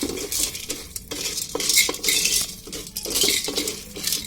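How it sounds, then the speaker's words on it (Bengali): Corn kernels being lightly fried with sugar in a pan for sweet popcorn, heard as continuous close sizzling with repeated metal scraping and stirring clatter, no talking. "এখন দিয়ে দিব ভুট্টা। এখানে হালকা একটু মিডিয়াম ভাজা করে নেব।"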